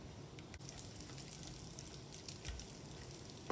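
Cashews and raisins frying in melted ghee in a pan, a faint, continuous soft sizzle and crackle with scattered tiny pops, heard close and quiet without talk.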